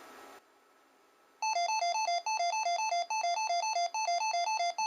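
A replicated NOAA weather radio alert tone from a scanner in scan mode, a loud steady electronic warble pulsing in regular repeating beats after a brief quiet lead-in, close and alone.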